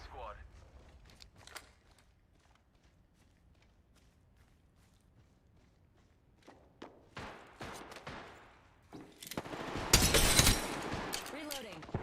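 Video game gunfire aimed at the player, starting as sparse faint shots and scuffling steps, then building to loud, dense bursts of fire and impacts near the end.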